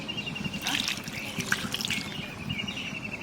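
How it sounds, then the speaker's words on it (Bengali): Ginger-garlic water trickles and splashes into a cooking pot for chicken biryani, a close, continuous liquid dribble with small sputters throughout. "আদা রসুনের জলটা দিয়ে দেবো"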